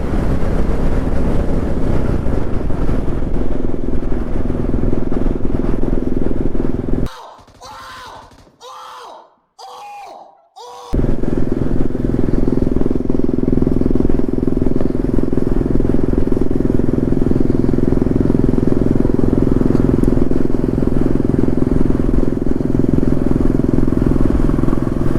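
Motorcycle engine fitted with a changed aftermarket exhaust, idling with a loud, steady, deep rumble, briefly cut by a few seconds of broken, choppy sound before the close, continuous drone returns.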